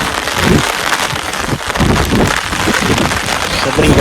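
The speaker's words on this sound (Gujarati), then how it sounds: "વરસાદ બહુ આવે છે, છત્રી બહુ ઉડે." Heavy monsoon rain pours down steadily over open farm fields, a loud and dense wash of drops drumming on surfaces that never lets up.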